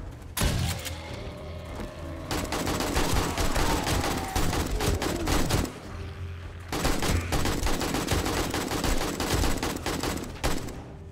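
Rapid bursts of AK rifle fire in the zombie survival game 7 Days to Die during a horde night, loud and close, broken by a short pause near the middle, over constant game ambience.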